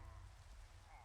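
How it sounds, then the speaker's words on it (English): Rain falls steadily in the video game Minecraft, a soft continuous patter of drops on surfaces, faint and even throughout the short moment. "Start raining."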